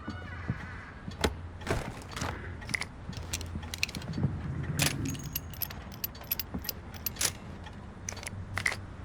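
Keys jangle in the video game Alan Wake, a busy metallic rattling and clinking spread over several seconds, with mechanical clicks and a low vehicle-like rumble underneath and no talk.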